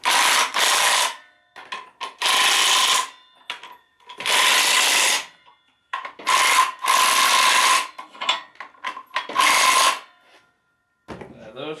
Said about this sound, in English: I can take the right size socket here, which I believe is this one